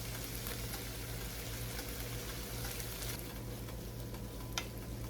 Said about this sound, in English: I'm gonna let that simmer for just a minute